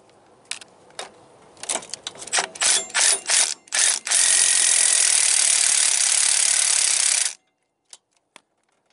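A ratchet works on a front shock nut of a 2003 two-wheel-drive Ford Ranger, first in short clicking strokes, then a long continuous whirring spin before stopping, followed by a few faint clicks.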